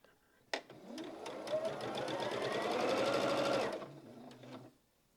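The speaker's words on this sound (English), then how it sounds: "I am just going to take the top row only and start sewing." A quilting sewing machine set to a short 1.5 stitch length runs across the top row of a quilt, starting with a click and whirring in a fast, even rhythm for about three seconds before stopping, close and clear.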